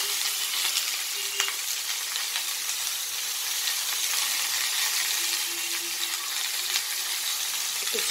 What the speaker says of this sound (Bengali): শুকনো লঙ্কাগুলো ফোড়ন দিয়ে আমি কড়াতে সবজিগুলো দিয়ে দিয়েছি